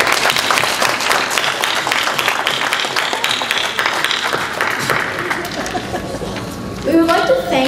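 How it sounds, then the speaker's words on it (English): A dinner-event crowd of a Nepali community in Canada applauds loudly and continuously for a host, then clapping thins near the end as a voice begins speaking. "Let's give him a big round of applause."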